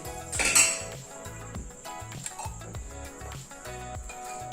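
A pressure cooker holding pork is opened, giving a few bright metallic clinks and clatters of lid and pot over a steady, rhythmic low thumping in the kitchen, with no talk.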